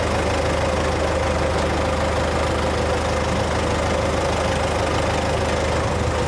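A tipping trailer's hydraulic cylinder works against the steady, close drone of an engine running, with a sustained whine holding over the continuous low rumble.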